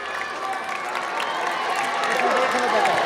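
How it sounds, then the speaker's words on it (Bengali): Spectators at a final football match between Malda and Birhampur clap and cheer as a rising, sustained wash of applause with crowd noise throughout. "আরো জোরে হাততালি দরকার।"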